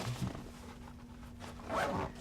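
A zipper on a waterproof camera rain cover is pulled in short close rasps, a brief zip at the start and a louder longer one near the end, with no talking.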